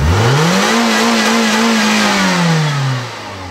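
A car engine revs with its accelerator pedal stuck. The note is loud, close and held, rising, staying high and then sinking as the revs drop near the end.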